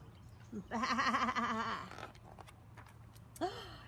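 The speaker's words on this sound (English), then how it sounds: "Then he heard it, a bleating sound." A single drawn-out bleat rings out close by, followed after a pause by a shorter second bleat.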